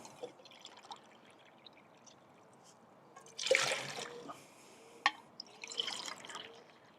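Two cups of water are poured into a pot on a gas canister camping stove, a short splashing gush in the middle with small clinks and drips around it.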